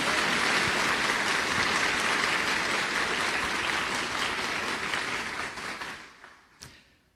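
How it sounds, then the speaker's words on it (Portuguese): A church congregation applauds in a long, dense roar of clapping that fills the room, holding steady for several seconds before fading out, with one last stray clap at the tail. "pode aplaudir sua igreja"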